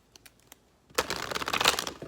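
A tarot deck is shuffled and cut, a few light card taps followed by a close, crisp riffling flurry that lasts about a second.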